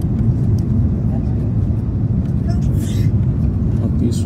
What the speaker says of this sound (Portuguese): O avião já pousa.